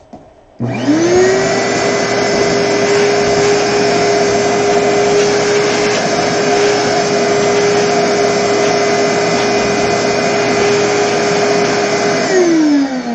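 A Shaper handheld router cuts circles with a cutter working loose, spinning up to a loud, steady high whine close by, holding constant for about twelve seconds before winding down.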